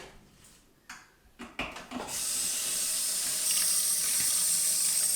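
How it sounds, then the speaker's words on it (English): Cool tap water running over garden snails in a sink as they are rinsed, preceded by a few handling clunks and then a steady, loud, continuous rush. "So you gotta rinse them in cool water."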